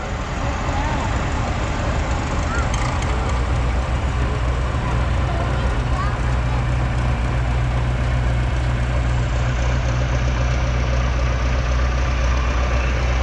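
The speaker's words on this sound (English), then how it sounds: "Next we've got a Farmall, a Super M built 1954, owned by the Burkett family out of Milton, Wisconsin." A 1954 Farmall Super M tractor runs in a threshing-show parade, its engine giving a loud, steady low rumble that carries unbroken from start to finish.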